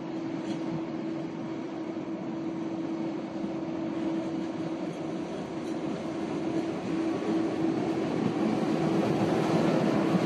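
A passenger train runs along a railway line in Cameroon with a steady, continuous rumble and hum of wheels on track, moderately loud and unbroken, no voices heard.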